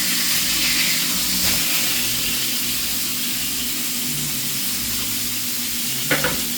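Burger patties fry on a hot surface with a loud, constant sizzle and hiss, plus a brief scrape near the end; no one speaks.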